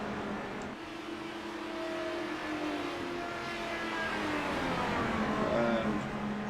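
A Dallara DW12 IndyCar engine lapping Charlotte Speedway in iRacing at about 200 mph, as a steady high-pitched drone that swells gradually louder through the clip.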